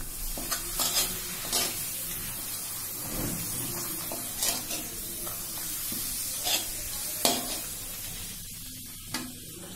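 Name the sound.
frying papad in oil, stirring in pan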